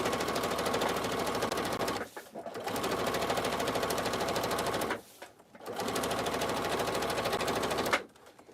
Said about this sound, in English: So I'm just going to keep going until I have about 3 or 4 lines of stitching.